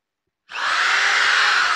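Electric drill with reverse and speed control starting up after a silent moment, then a steady close high whirring motor running alone.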